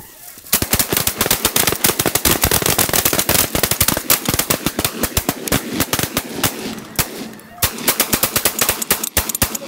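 Shotguns fire in a rapid, continuous volley during a snow goose hunt in an open wheat field, with loud, sharp blasts close by in near-unbroken succession and a brief pause partway through.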